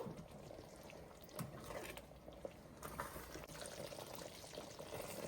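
Capsicum masala curry simmering in a pan, a steady low bubbling and sputtering that runs evenly throughout with a few sharper pops, fairly quiet and close, with no one talking.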